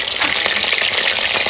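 Marinated chicken frying in a pan gives off a dense, continuous sizzle and crackle, close and fairly loud, with no talking.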